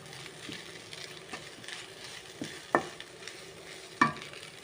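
A spoon stirs tandoori chicken chilli fry in a pan, with scraping strokes and a couple of sharp clinks against the metal over a soft steady sizzle.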